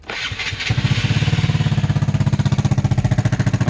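A Piaggio X7 250cc scooter engine cranks, starts, and settles into a steady, fast putter at idle, close up and fairly loud, with its exhaust blowing from the manifold.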